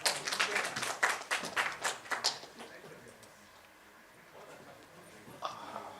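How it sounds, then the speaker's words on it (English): A crowd applauds for about two seconds, the clapping dense and fairly close, then fades into quiet room noise with a faint voice. "Can we have a round of applause, please?"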